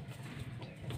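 A soft, low pigeon coo repeats quietly, close by, with light background noise.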